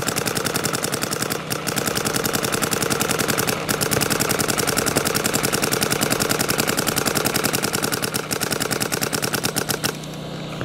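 Rapid, sustained full-auto fire from a Vanquish GT paintball marker fitted with a V16 bolt kit, a dense loud stream of popping shots running nearly unbroken for about ten seconds with no talk.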